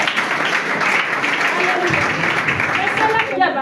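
Church congregation applauding and cheering for Jesus, a dense burst of clapping and voices that stays loud and even before fading slightly at the end.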